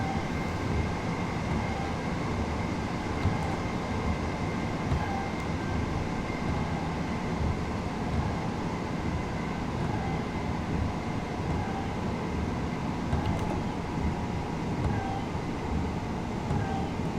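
A train rolls along the East Coastway Line in Train Sim World, a steady close rumble and hum with faint rail clatter running evenly throughout, no voices.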